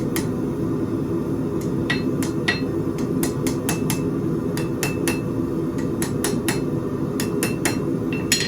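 A blacksmith's hammer forges hot metal on an anvil while drawing out a long taper. Sharp, ringing strikes land close and loud in an uneven but steady rhythm over a constant background of forge noise, with no talking.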